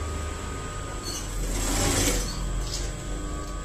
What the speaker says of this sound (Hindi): यहाँ से पक्का करते हुए ये सिलाई लगाएंगे